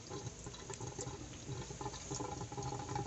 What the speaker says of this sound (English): the system is trying to bleed the air out. That's why you hear this little gargling noise right here